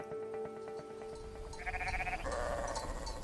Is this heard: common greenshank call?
no